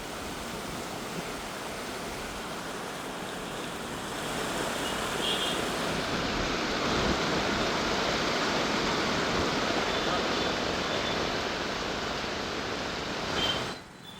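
Krishna river in flood after heavy monsoon rain in Satara, a steady, loud broadband rush of fast-moving water roaring continuously, swelling slightly midway and dipping at the very end.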